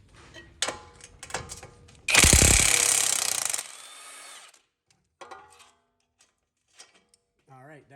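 An impact wrench hammers off the knuckle pinch bolt on a 2014-2018 Jeep Cherokee front strut, a loud close burst of rapid rattling blows lasting about two seconds. Clanks and handling noises come before and after, and someone speaks briefly near the end.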